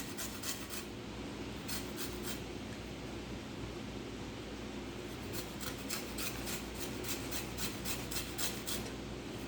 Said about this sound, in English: I'm going to take this other lime and just zest this lime some.